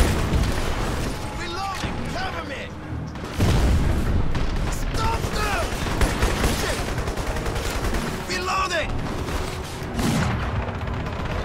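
Sustained gunfire in the video game Crysis, dense bursts and heavy booms over a continuous loud backdrop, with someone talking over the shooting throughout.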